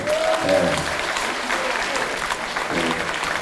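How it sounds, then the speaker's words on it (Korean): Brief applause from a political rally crowd, a dense burst of clapping with voices mixed in and a short shout near the start. "네, 박수."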